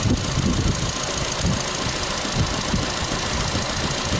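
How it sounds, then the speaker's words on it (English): Steady idle of a Nissan Versa engine with a cylinder misfire, a continuous rough low rumble with slight uneven pulsing, close and fairly loud with no talk. "I gotta fix that cylinder misfire"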